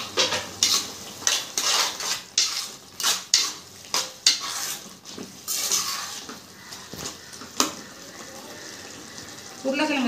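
Ground tomato going into a pot of cauliflower, butter bean and prawn curry, with repeated clattering stirs and scrapes of a utensil against the pot and a light sizzle beneath, close and busy.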